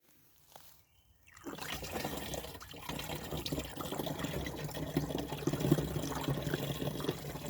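Maple sap running from a tapped tree into a jug in early spring, a faint start followed by a steady, close trickle and gurgle of liquid filling the container, with no voices.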